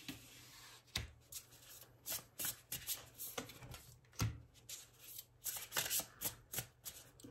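Tarot cards handled and laid down during a reading: soft, close shuffling and sliding, with irregular bursts of card rubs and light taps on a surface, quiet and without speech.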